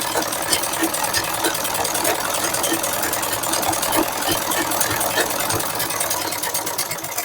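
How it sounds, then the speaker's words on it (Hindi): Electric sewing machine stitching the back neck of a blouse, running in a steady, continuous mechanical whir with rapid needle ticking throughout, close and moderately loud. "इस तरफ भी हम सिलाई लगा लेंगे।"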